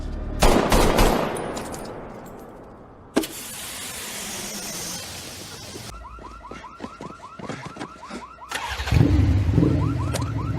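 Gunfire rings out in an action-movie street standoff: one sharp shot, then a burst of rapid automatic fire, with a car alarm and street noise around it.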